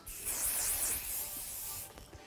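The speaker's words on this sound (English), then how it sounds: "So it's a little bit of a light hairspray, medium hold, just to fixate the hair straws a little bit." Light, medium-hold hairspray misted onto styled hair in a steady hiss lasting about two seconds, close to the microphone, followed by a short softer burst.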